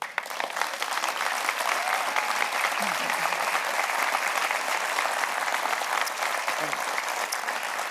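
An audience at the Las Vegas State of the City Address 2023 applauds and cheers steadily, a dense continuous wash of clapping from a large indoor crowd with no breaks throughout.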